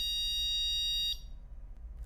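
A SonoAlti 3 altimeter gives an audible alert: a steady, loud electronic tone that holds for about a second, then cuts off and leaves faint background hum.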